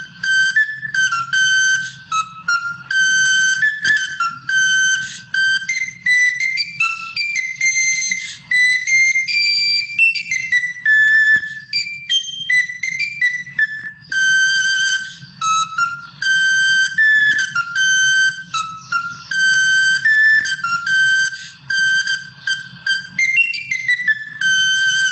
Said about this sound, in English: This video is an example of the Garklean recorder, which is the smallest recorder there is.